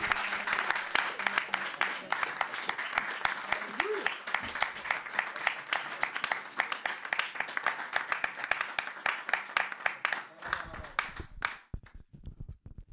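A church congregation applauds after a sermon reading, a steady dense clapping from many hands that carries on for about ten seconds before thinning to scattered claps and fading out, with voices faintly mixed in.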